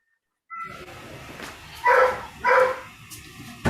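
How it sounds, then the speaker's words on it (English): A dog barks and yips indoors, giving two loud, sharp bursts about half a second apart over a low background murmur, followed by a short final yelp. "I love that dog."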